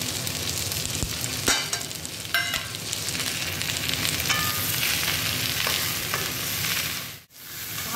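Salt, turmeric, ground coriander and cumin stirred into a hot frying pan with a little oil, steady loud sizzling and frying with scraping stir strokes throughout, briefly dipping near the end.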